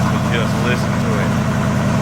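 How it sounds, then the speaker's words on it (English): Old truck engine idling high on the fast idle cam, a loud, steady low rumble with an even pulsing beat throughout and no talk. "It's up on the fast idle cam."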